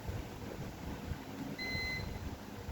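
A multimeter set to buzzer mode beeps once, a short steady electronic tone, while probing the PCH on an HP FX-ISL 4 Rev A motherboard during a no-display repair; low background rumble runs underneath.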